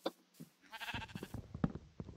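A Minecraft sheep gives a couple of short, wavering bleats with small clicks around them, faint and nearby in a quiet game scene.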